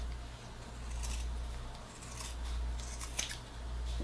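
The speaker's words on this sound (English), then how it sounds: "I'm going to fold it in half and I'm going to cut." Scissors slice through folded fabric being cut out for a face mask, a crisp run of close snips that keeps going over a steady low hum.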